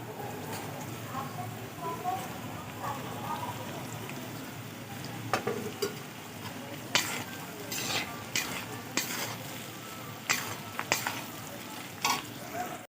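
Chicken pieces and fried egg being stir-fried for chowmein, with a continuous sizzle, repeated metal utensil clanks and scrapes against the pan, and a voice talking over it.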